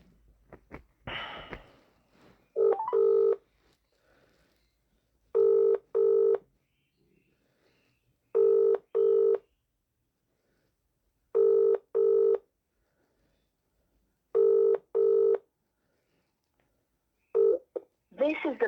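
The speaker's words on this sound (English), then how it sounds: "ring up Christopher Browell." A mobile phone call being placed: bursts of DTMF keypad dialing tones, then a ringback tone pulsing in regular pairs of rings before a Vodafone voicemail greeting, with a short breath or sniff near the start.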